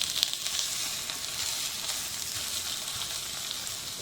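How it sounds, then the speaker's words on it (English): Persian kotlet patties of meat, potato, carrot, jalapeno and parsley frying in a pan, giving a steady, close, continuous sizzle with faint crackles throughout. "And now I'm gonna fry the other side of it."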